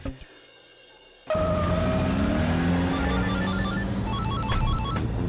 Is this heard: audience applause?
no